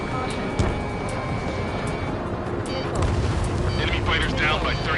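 A missile explosion destroying a target in the video game Ace Combat, heard as a dense roaring rumble with a sharp burst near the start and a swelling blast later, layered over continuous jet engine noise.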